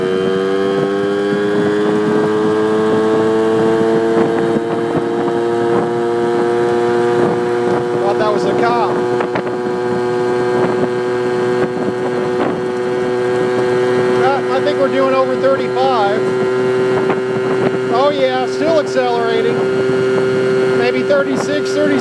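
Yamaha Towny moped engine on a spring ride, a loud steady buzzing drone with rising harmonics as it winds out through the gears, with wind noise over the microphone throughout.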